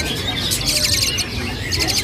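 White starling chicks in a bird shop give repeated high, thin chirping calls in short bursts, close by over a steady low background hum.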